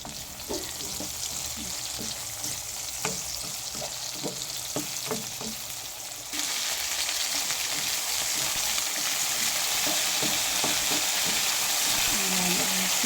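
Eggplant stir-fries in a pan for a sautéed vegetable dish, with a steady sizzle and a run of quick spatula clacks and scrapes that is soon joined by a louder, denser hiss.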